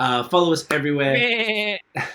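A person mimics a goat's bleat with a wavering, quavering voice, a couple of drawn-out cries with talk mixed in, close and loud.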